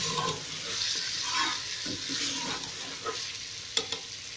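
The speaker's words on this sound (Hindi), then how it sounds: "आंच को हल्का सा बढ़ा लें और गोश्त को वाइट होने तक भूनें।" Mutton for aloo mutton shorba sizzles in a pan while being stirred, with a steady frying hiss and scattered scraping knocks, plus one sharp clatter near the end, close up and with no talking.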